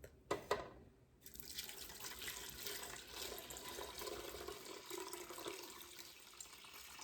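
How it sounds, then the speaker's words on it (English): Ricotta curds and whey poured into cheesecloth in a home kitchen, a soft steady stream of liquid splashing and trickling after a couple of sharp knocks, faint and close. "But I'm gonna pour it in the cheesecloth."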